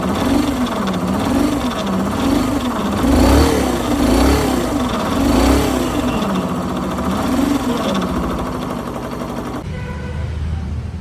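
A Hero Xtreme 125R motorcycle engine with an abnormal noise runs steadily nearby. Its note wavers rhythmically, and the tone shifts and drops near the end.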